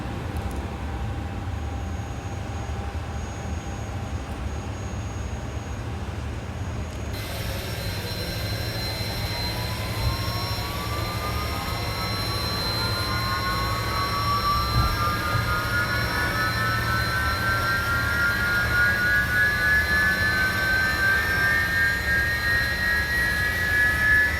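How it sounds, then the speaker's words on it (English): Airbus A300-600 jet engine spooling up in a flight simulator, a steady roar with a rising whine that climbs gradually over about twenty seconds and grows louder toward the end. "Let's go ahead and start the engines"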